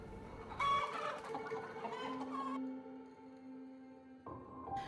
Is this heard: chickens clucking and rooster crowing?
yes